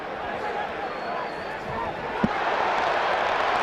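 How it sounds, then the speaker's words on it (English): A crowd at the 1980 Duran versus Leonard boxing match roars and murmurs as a continuous broad wash of distant noise, with a brief thud partway through and a swell in loudness afterward. "You hear the crowd."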